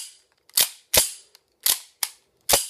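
KWC M1911 A1 CO2 gas blowback airsoft pistol firing 0.2 gram BBs, five crisp, snappy shots at an uneven pace, close and loud against silence.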